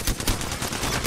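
Rapid gunfire in the Apex Legends video game, a short loud burst of automatic shots in quick succession, with no talking over it.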